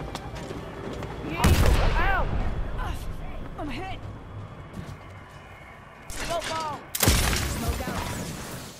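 Gunfire in the video game Apex Legends, several sharp bursts of shots with a loud volley near the start and two more loud bursts near the end, between quieter stretches of game sounds and ringing effects.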